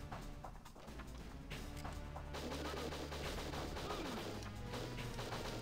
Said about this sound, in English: Oh, you're using your machine gun now.